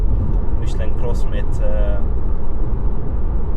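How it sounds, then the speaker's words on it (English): A steady low rumble of Michelin CrossClimate 2 all-season tires on the road droned inside a moving 2019 Tesla Model 3 Long Range AWD, with a voice talking briefly over it near the start. "Maybe you can hear some road noise."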